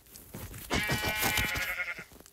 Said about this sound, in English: Now I just need to kill that other sheep that dyed it red.